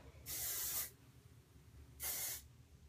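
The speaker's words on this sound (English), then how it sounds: "take some hairspray and spray the ends and crunch them up" Two short bursts of hairspray hiss onto the ends of hair, each about half a second, separated by a pause, close and fairly quiet over faint background hum.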